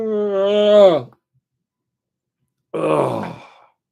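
A person yawns during a live stream: a drawn-out, voiced, groaning breath that falls in pitch, then a pause and a second, shorter, breathier exhale, close and fairly loud.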